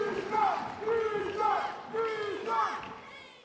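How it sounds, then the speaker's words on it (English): Crowd at a professional table tennis match during a Golden Game, a loud rising wave of voices with cheering and shouted calls that swells and dips in repeated surges, up close and filling the room. "Crowd clearly behind Jishan."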